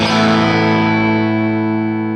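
Electric guitar played through an AmpliTube software model of a Fender '65 Twin Reverb amp, a single ringing chord struck loud and left to sustain and slowly decay, clean yet slightly driven with a touch of reverb.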